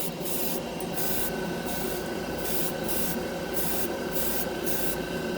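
Airbrush spraying Mr. Color lacquer paint at 20 psi onto an old Gundam model kit part, a steady close hiss of air and atomized paint running throughout with faint rhythmic pulses on top, no talking.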